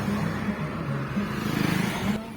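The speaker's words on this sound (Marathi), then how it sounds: "ट्रॅफिक जाम जाम जाम" Cars in a traffic jam on a road in Canacona, South Goa, make a steady low engine rumble with slight surges, as if idling and creeping forward nearby.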